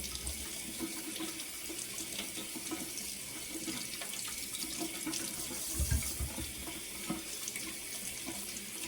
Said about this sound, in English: I'm going to wash my red potatoes. Get any dirt off of them.